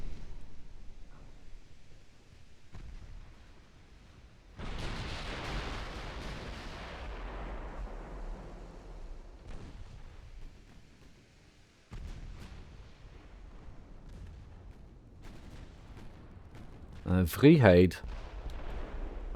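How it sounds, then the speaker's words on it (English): Naval big-gun artillery fire in the Ultimate Admiral Dreadnoughts game, with heavy booming salvos that roll out into long rumbling decays and a sharp burst near the end. Someone talks over parts of it. "Or if I use some bigger guns."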